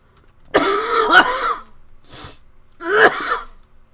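Two bursts of harsh coughing, close and loud, separated by a short quiet gap with a faint throaty sound between them.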